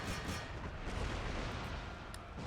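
Cannon artillery fires in Empire: Total War during a Prussian campaign battle, a faint, distant rolling barrage of booms and crackling blasts that blur into continuous rumbling noise.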